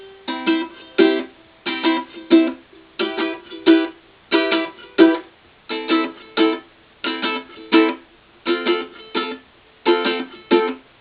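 A ukulele strummed in a steady rhythm, repeated bursts of chords forming a gentle melody, played close and alone without voices.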